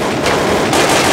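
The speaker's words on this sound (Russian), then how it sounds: "Он что-то выстрелил." Gunfire in the video game Counter-Strike: Global Offensive, a loud, dense burst of rapid shots filling the whole short moment, with no talk.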